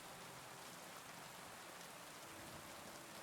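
Steady rain in the video game Kingdom Come: Deliverance 2, a constant, even hiss of falling drops, faint and unbroken with no voices.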